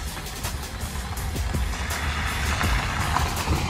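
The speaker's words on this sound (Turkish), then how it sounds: "Evet, bir araba geçiyor." A car passes by on a wet night road, a steady low engine rumble with tyre hiss that swells slightly toward the end, moderately near, with no talking.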